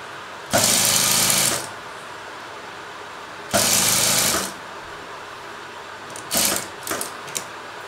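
A home sewing machine runs in two bursts of about a second each, stitching a fold of blouse fabric for a cross-cut blouse, followed by a few short, softer runs; no voices.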